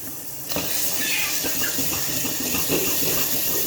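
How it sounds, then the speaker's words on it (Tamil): Dissolved tomato, tamarind and salt water for rasam pours into a hot pan, a sudden rush of hissing, bubbling liquid that starts abruptly and keeps sizzling steadily and loudly. "தக்காளி, புளி, உப்பெல்லாம் கரைச்சி வச்சுருக்கோம்ல, அதெல்லாம் போடணும்."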